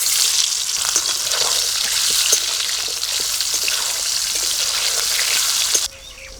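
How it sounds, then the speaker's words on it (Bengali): Boiled potatoes coated in salt and turmeric fry in hot oil, a steady dense sizzle running loud and close with faint crackles, cutting off abruptly near the end. "সেদ্ধ আলুতে নুন হলুদ মাখিয়ে রেখেছি, ভেজে নেবো এবার"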